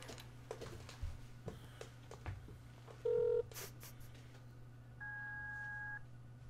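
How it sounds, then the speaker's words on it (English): A phone number is dialed on a telephone keypad, giving a short burst of touch-tone beeps followed by a longer steady dual-tone beep, all faint over a low background hum. "I dialed the wrong number, you guys."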